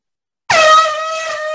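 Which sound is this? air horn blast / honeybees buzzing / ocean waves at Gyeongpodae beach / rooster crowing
air horn blast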